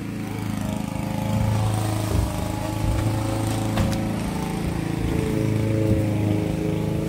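A small motor buzzes steadily in a bubble-blowing toy lawn mower, a continuous whirring drone at moderate volume close by.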